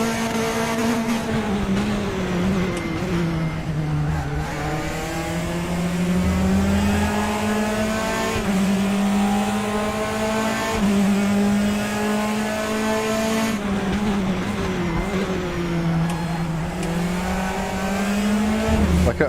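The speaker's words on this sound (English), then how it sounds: "we're both hitting the limiter now" Race car engine in RaceRoom, a Praga at Bathurst, held steadily at high revs against the rev limiter with a continuous buzzing whine that dips briefly and climbs again, loud and close.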